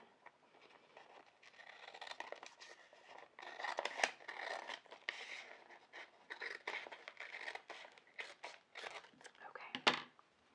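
Scissors snip through sheet material while making a reusable chalkboard sign, with a steady run of soft close cuts, crinkles and rustles, and a sharper snip near the end.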